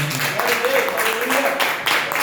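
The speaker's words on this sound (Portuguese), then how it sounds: "E a igreja, em gratidão, aplauda a Deus bem forte." A church congregation claps together during a Sunday service, a busy wash of applause running under a voice and tonal sound throughout.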